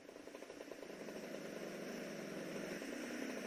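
A motorcycle engine idles steadily in Grand Theft Auto: Vice City, a low, even mid-pitched rumble that holds constant and swells slightly louder partway through, with no talk over it.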